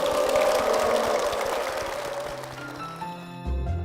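Congregation applause at a Korean Methodist church in Cheorwon, a steady wash of clapping that fades over a few seconds before a low musical tone enters near the end.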